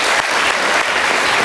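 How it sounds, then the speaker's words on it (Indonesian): A studio audience at a live talk show claps loudly and continuously, a thick, close wash of applause with no pauses. "Kita berikan tepuk tangan."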